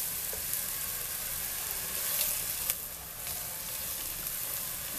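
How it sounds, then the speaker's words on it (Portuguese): Colorau (annatto) frying in a pan for a chicken lasagna filling, a steady close sizzle with occasional stirring scrapes and clicks, no voices. "Vamos dourar, vamos fritar um pouquinho esse colorau."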